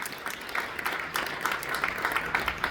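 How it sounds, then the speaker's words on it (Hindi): Audience applause for actor Raunak Yadav at a stage drama performance, a sustained crowd of many hands clapping at moderate distance, swelling slightly and continuing throughout. "रौनक यादव के लिए एक बार जोरदार ताली बजाएं"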